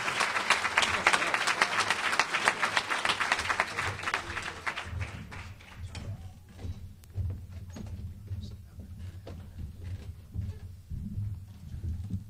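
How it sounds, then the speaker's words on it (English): Audience applause at an athletics hall of fame awards dinner, a dense roar of clapping for about five seconds that fades into scattered claps and murmuring room noise. "Ladies and gentlemen, please give another round of applause for the 2000 women's volleyball team as this year's Team of Distinction."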